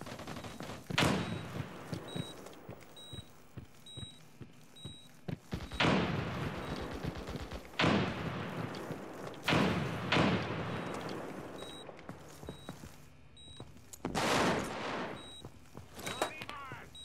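A frag grenade in the military shooter America's Army: Proving Grounds goes off among heavy gunfire, with loud booming blasts and bursts of shots repeating across the scene, plus faint game chatter.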